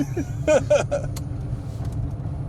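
An electric classic Mini's low rumble and road noise drone steadily, with a few brief squeaky mechanical sounds near the start.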